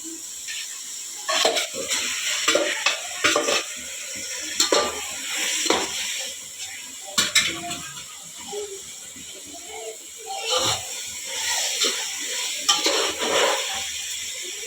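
Chicken is added to a pot for biryani and stirred, giving a soft sizzle with irregular scraping and clinking of a utensil against the pot, close and fairly loud.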